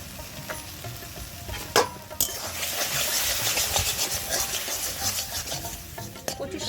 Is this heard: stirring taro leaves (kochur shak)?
yes